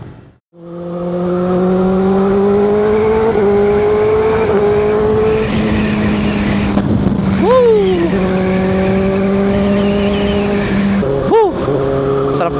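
A Kawasaki ZX-6R inline-four motorcycle engine drones loudly up close, rising slowly in pitch, then revs sharply upward twice with quick throttle blips.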